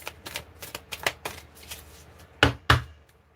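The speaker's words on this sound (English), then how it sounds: "And we're just going to give another shuffle." A deck of tarot or oracle cards is shuffled by hand, a run of quick riffling snaps and taps followed by two louder slaps, close and clear with no talking.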